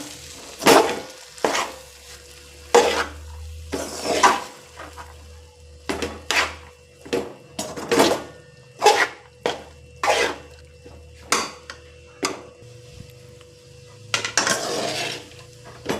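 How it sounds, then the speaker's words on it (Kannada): Cooked rice is stirred into a tomato mixture in a pan for tomato fried rice, giving repeated loud spoon scrapes and clanks in an uneven rhythm over a faint sizzle, close up, with no talk. "ಇವಾಗ ಅನ್ನ ಹಾಕಿದ ಮೇಲೆ ಸರಿಯಾಗಿ ಕಲಿಸ್ಬೇಕು"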